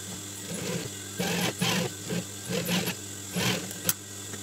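Sewing machine stitching together pieces of a hat made from an old sweater, in short whirring bursts of about half a second each, separated by brief pauses, fairly close and clear, with no talk.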